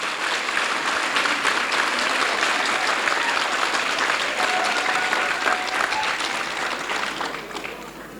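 A large audience at a youth camp applauds loudly and continuously, a dense wash of clapping that tapers off slightly near the end, with some crowd noise mixed in.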